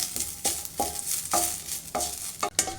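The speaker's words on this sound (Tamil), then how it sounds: "அந்த கருவேப்பிலையும் சேர்த்து நல்லா வதக்கிக்கலாம்" Washed and dried curry leaves sautéing in a pan for idli podi: a crackling sizzle with several quick spatula scrapes in a loose rhythm, close and fairly loud, no voices.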